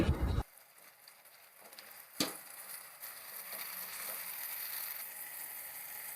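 Mutton sizzles in a pan for a spring onion curry, a quiet, steady frying crackle after a brief loud burst at the start, with one sharp clink partway through.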